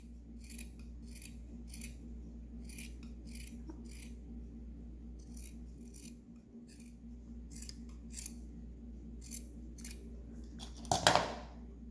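Scissors snipping through plush fabric while making an Easter chocolate holder, a steady series of crisp, close cuts in regular rhythm over a quiet background.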